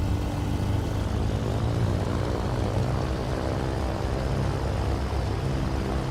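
A twin-propeller aircraft engine in Microsoft Flight Simulator 2024 idles at about 1,000 RPM on a cold start, a loud, steady droning hum with no talk.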